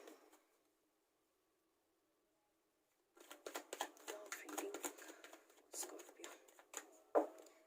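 Tarot cards shuffled by hand, a soft papery riffling that begins after a short silence and continues in quick uneven bursts, close and fairly quiet.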